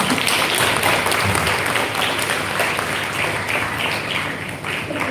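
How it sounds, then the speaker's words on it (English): Loud, dense audience applause at a school event fills the space steadily from start to finish, a continuous close wash of many hands with no voices breaking through. "Can we have a huge round of applause for them?"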